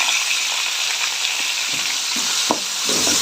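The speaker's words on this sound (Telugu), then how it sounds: "టమోటా కొంచెం బాగా మగ్గాలి కాబట్టి టమోటా వేసుకున్నాం ఇప్పుడు ఫస్ట్ వేసుకున్నాం" Chopped tomatoes sizzle and fry steadily in hot oil in a pan for mango dal, a close, dense crackle with occasional stirring clinks and scrapes of a spoon.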